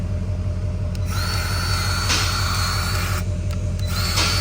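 Electric grease gun running with a steady mechanical whine and hum, close and continuous, changing pitch briefly a couple of times; no talking.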